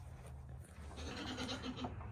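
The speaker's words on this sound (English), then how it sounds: "goats that won't shut up" Goats bleat faintly at a distance in a backyard, a few short calls rising over low background rumble.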